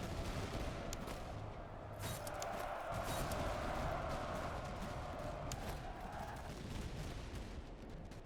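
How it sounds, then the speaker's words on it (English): Musket volleys crackle steadily in the video game Master of Command, with British infantry firing in a dense, unbroken rattle of gunfire for several seconds, loud and continuous. "Let's open fire."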